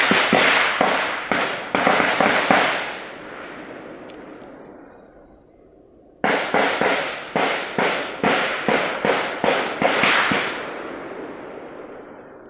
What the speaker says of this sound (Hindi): किस तरह से गोलियों की तड़तड़ाहट यहाँ पर सुनाई दे